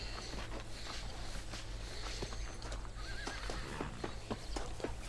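Video game hooves clip-clop in a steady walking rhythm while a horse whinnies once partway through, with a constant low hum beneath and no speech.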